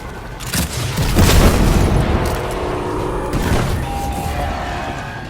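Devour grenade blast in Destiny 2 during a Hollowed Lair Nightfall: a loud, sustained booming roar swells after a second and lingers, with a second surge of crashing impact near the middle over continuous game noise.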